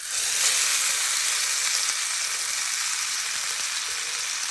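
Fish marinated and coated in gram flour fries in a mix of soybean and mustard oil, giving a continuous, even sizzle that stays bright and unbroken throughout with no voices.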